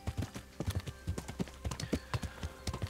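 Rhythmic clip-clop of horse hooves trotting at a steady pace in the video game Kingdom Come: Deliverance, close and clear, with a faint background hum.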